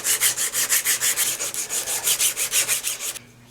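A hand file rasps across a prop boot rocket in even back-and-forth strokes, about fifteen rhythmic scrapes close to the microphone, then stops; no talking.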